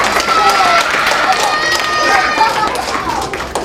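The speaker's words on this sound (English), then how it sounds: "Give her a nice round of applause" Audience applause at a library magic show, a sustained burst of clapping from a small crowd, steady and fairly close, with cheers and chatter mixed in.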